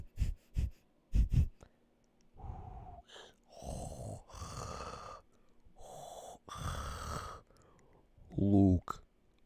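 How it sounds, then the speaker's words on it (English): Close breathing into a microphone, with loud breathy puffs and wheezy, whispery inhales and exhales in uneven bursts, a few sharp clicks, and a final hard gasp near the end. "you can hear me fucking breathing"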